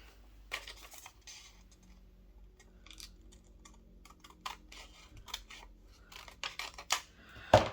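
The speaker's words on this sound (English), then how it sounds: "I think what I'll do is I'll cut this" Scissors cut craft material at a crafting table, a few short crisp snips scattered across the clip and growing louder near the end, alone with no talking.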